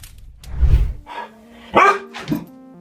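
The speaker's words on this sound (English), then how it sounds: "It barked and then quickly stepped back, looking afraid of something" A husky dog gives a few sharp barks and yips indoors, spaced unevenly across a couple of seconds after a low thump, close and fairly loud with no talk.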